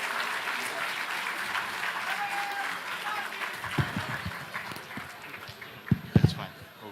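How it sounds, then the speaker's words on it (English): Audience applause at an international law and peace symposium inauguration, a large crowd clapping steadily for several seconds with a few louder claps and thumps near the end. "give a big round of applause to Dr. M. Veerappa Moily for his enlightening address"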